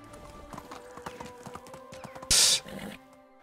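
Horse in the Medieval Dynasty video game: a quick run of hoof clip-clops, then a loud, brief burst of noise near the end before the sound fades.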